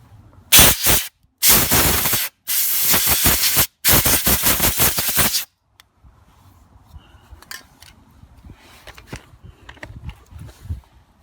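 Compressed air blasting out the front disc brake parts of a Toyota Corolla during a brake pad replacement: four loud, sharp hissing bursts in quick succession, then a quiet workshop.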